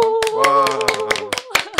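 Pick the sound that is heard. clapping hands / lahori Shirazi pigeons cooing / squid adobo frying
clapping hands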